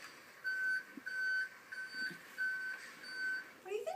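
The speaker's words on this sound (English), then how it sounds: "Noisy trucks." Reversing beeps from noisy trucks outside repeat as a steady series of high tones, faint and distant, with some indoor rustling nearby and no talk.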